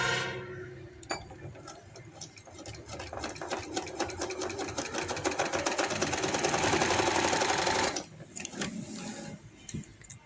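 Sewing machine stitching lace onto a velvet party-wear frock, running in a steady rapid whirr for several seconds, then stopping abruptly with quieter handling sounds after.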